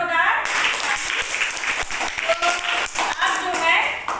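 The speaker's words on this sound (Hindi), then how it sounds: "बहुत बढ़िया, इसके लिए जोरदार ताली।" Children at a Hindi quiz-show-style game applaud, a dense broadband patter of clapping filling the clip, with a host talking over it.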